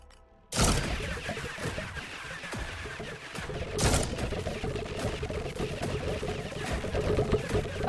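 Weapon in the game Void/Breaker setting off repeated explosions, a sharp blast followed by a dense stream of crackling, rattling bursts and a second strong hit, busy and fairly loud throughout.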